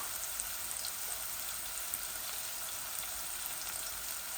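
Chicken sizzling in a pan for a bhuna, a steady close crackling hiss without pause and no talking.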